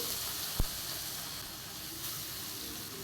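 Live bata fish coated in salt and turmeric fry in hot mustard oil in a wok, producing a constant, even hiss of sizzling with one brief knock early on.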